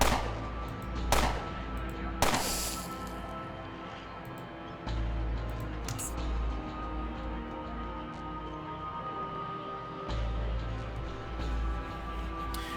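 Gunshots in the game Underrail crack out as a few sharp, separate reports spaced seconds apart over a low humming background drone.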